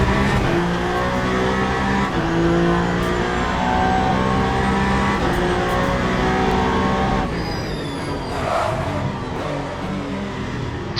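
A race car in Le Mans Ultimate at the 8 Hours of Bahrain, engine droning steadily at high revs, then the tone drops as it brakes hard and locks up into a turn, with a brief tyre squeal near the end.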